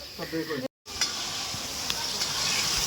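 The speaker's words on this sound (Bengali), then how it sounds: "এটা কি কিসের আলু ভাজছো" Potatoes and cauliflower sizzle as they fry in a pan during a picnic, a soft steady hiss heard after voices talk briefly at the start.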